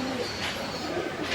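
A pigeon coos softly close by over a steady background hiss, a brief low murmur of calls.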